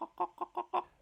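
A pet hen gives five short, close clucks in quick succession, evenly spaced within a second, with no other sounds.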